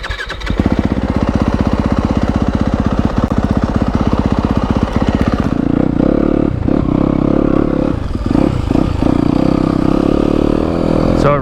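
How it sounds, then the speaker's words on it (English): A 2021 Yamaha YZ250FX dirt bike engine buzzes loud and near with a rapid, steady firing rhythm, then roars on as the bike rides off, rising and falling with the throttle. "this is the first ride on my 2021 Yamaha YZ250FX"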